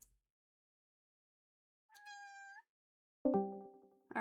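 A house cat meows twice in an otherwise silent room, a short clear mew followed by a louder, longer call, heard close with no talking.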